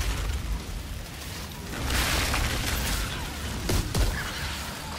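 Creatures explode during combat in the video game Outriders, giving a sustained rumbling wash of blasts with a louder swell midway and sharp bursts near the end, without voices.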